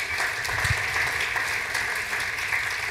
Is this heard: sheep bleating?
no